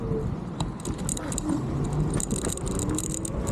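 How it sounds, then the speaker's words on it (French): A 60V 40A 6000W electric scooter accelerates hard, giving continuous road and wind rush mixed with jangling, rattling parts, loud and close for the whole stretch without clear talk. "Vas-y, petite pointe, accélère, accélère."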